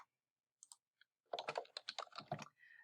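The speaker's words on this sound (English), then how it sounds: "So at this point I would type in my name." Typing a name on a computer keyboard: a couple of isolated key taps, then a quick, close burst of clattering keystrokes lasting about a second and a half, with no talking.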